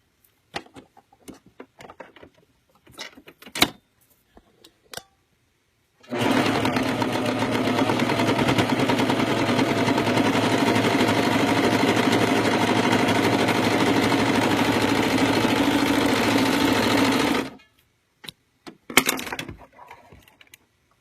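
A serger sewing machine runs continuously for about eleven seconds, stitching fabric with a steady, loud mechanical whir, with brief quiet handling noises before and after.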